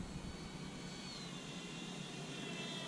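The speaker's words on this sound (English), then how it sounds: "I'm going to do a flyby here." A foam board and 3D printed Sopwith Camel model airplane makes a low flyby, its electric motor and propeller giving a steady, faint high whine that swells slightly, heard alone.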